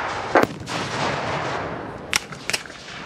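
Civil War reenactors firing muskets on a battlefield, with a few distant, muffled cracks scattered over a broad, steady rumble of background noise, including a closer pair of shots near the end.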